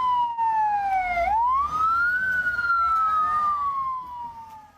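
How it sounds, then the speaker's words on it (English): A loud wailing air-raid siren in southern Israel sweeps up and down in pitch, with traffic rumble beneath, continuous and close for the whole stretch. "sirens sounded across southern Israel"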